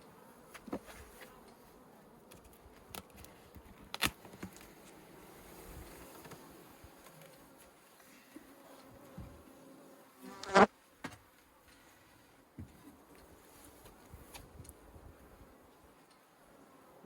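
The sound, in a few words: honey bees buzzing in a hive box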